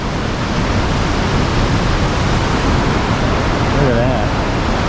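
River water rushes loudly at Tahquamenon Lower Falls, a constant broad roar of churning current that stays steady and close throughout, with no other sounds standing out.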